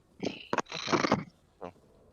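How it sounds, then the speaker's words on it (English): A cat named Churro purring and making small vocal sounds close to a microphone, heard as a few short, breathy bursts with gaps between them, fairly quiet and with no voices. "Churro's over here purring to his mic."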